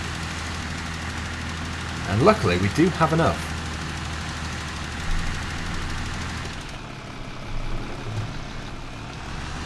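Fendt 512C tractor engine in Farming Simulator 2015, a steady low rumbling drone running throughout under a brief spoken line from a man.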